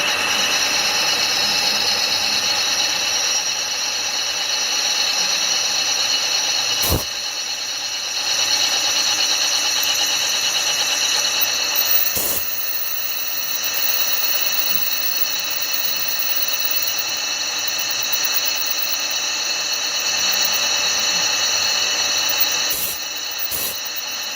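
A steady mechanical drone of a drilling machine boring weight-reduction holes in a gear for a 4 1/2 inch Burrell steam engine build, continuous and even, with a few sharp clicks.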